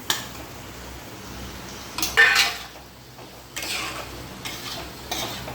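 Roasted ground spice masala and potatoes fry in a pan, with a low sizzle under several close scraping stirs and metal clinks of a spoon against the pan.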